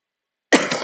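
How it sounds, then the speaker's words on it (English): A single sharp cough bursts out after a moment of silence, close and fairly loud, trailing off quickly. "Sorry, I am still coughing."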